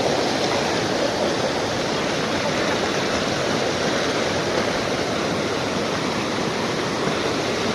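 A mountain river along a rough, dangerous path to a temple, heard as a loud, steady roar of rushing water that fills the whole clip without a break.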